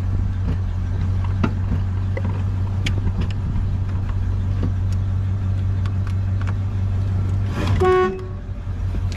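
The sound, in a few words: 1972 Pontiac Lemans Sport car horn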